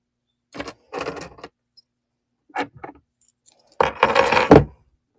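Small brass and metal keys jangle in separate bursts, a short shake, a couple of faint clinks, then a longer, louder rattle near the end, with no voices.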